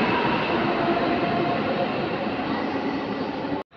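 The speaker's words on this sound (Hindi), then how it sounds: "मेट्रो आ चुका है। चलो बैक कैमरा करके मेट्रो दिखाते हैं भाई, ये अपना मेट्रो दिल्ली का।" Delhi Metro train arriving at a station, a loud steady rumble and rush of the cars filling the platform, cutting off abruptly near the end.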